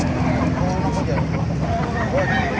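Kanawayan gamefowl roosters call and cluck at an outdoor market in Calumpit, loud and close, while people talk over a busy background.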